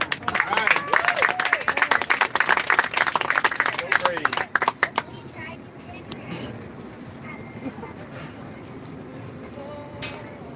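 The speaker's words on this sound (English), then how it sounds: "Go ahead and give a round of applause, guys." At a public speaking event in Newport Beach, a crowd gives a loud, dense round of clapping that lasts about five seconds, then breaks off into quieter crowd murmur and room noise.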